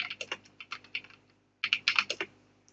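Fast bursts of typing on a computer keyboard, close and fairly quiet, with a short pause between two clusters of keystrokes and no talk.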